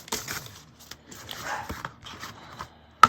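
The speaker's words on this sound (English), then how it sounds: "I'm so sorry about my dogs." Dogs panting and shuffling around indoors, quick breathy bursts and small scuffs close by, with a sharp knock at the end.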